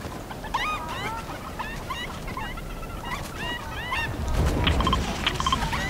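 A crowd of Fortnite chickens clucking and squawking in dense, overlapping calls that keep coming throughout, fairly loud and close, with a rougher burst of noise near the end.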